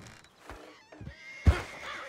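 A horse in the video game Red Dead Redemption 2 gives a brief, close neigh and snorting sounds, with a few soft thuds, in a short burst.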